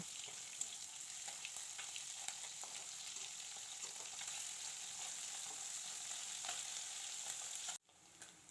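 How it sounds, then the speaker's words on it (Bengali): Fish frying in hot oil in a pan, a faint, steady sizzle with scattered crackles that cuts off abruptly near the end. "সে পাশটাকে আমি উল্টে ভাজা করে নেব"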